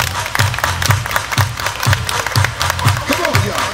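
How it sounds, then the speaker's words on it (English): Party crowd clapping along in a steady rhythmic beat at an evening gig, with music and voices mixed underneath. "Everybody clap your hands."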